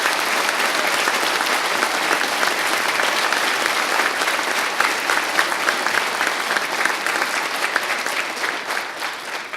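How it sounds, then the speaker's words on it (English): Sustained, dense applause from a large crowd at a fire academy graduation ceremony, loud and steady for the whole stretch, with many hands clapping and no voices standing out. "So can everyone give a round of applause for the instructors of HRFA Class 9?"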